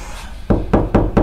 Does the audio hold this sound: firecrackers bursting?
no